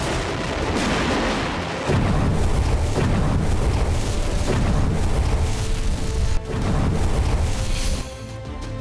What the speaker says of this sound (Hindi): रॉकेट फायर के बाद आग के शोले उठे और फिर आसमान में सफेद धुएं का गुबार छा गया।